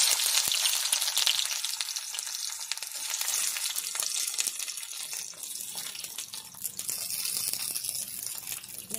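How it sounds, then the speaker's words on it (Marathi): Onion added to hot oil in a kadai sizzles and crackles loudly and continuously up close, with a steady frying hiss throughout and no speech. "आता त्याच्यात आम्ही कांदा घालूया."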